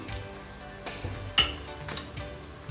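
Chopped tomatoes and ginger-garlic paste go into a pan for rajma masala, bringing a few sharp clinks of a spoon on metal and soft scraping over a faint sizzle, close and fairly quiet, with no talking.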